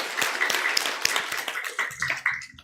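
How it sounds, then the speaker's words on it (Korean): A church congregation applauds its combined choirs, with irregular, fairly sparse claps, some sharp and close, fading toward the end as a voice begins speaking. "우리 다시 한번 격려와 응원의 박수를 보내주시면 감사하겠습니다."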